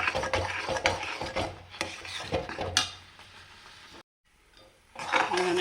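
Jackfruit halwa with ghee and melted jaggery syrup is stirred in a pan, giving repeated scraping and clattering strokes of a spoon against metal, fairly close and busy, broken by a brief pause near the end.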